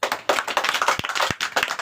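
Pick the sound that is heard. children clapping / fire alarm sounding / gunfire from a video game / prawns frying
children clapping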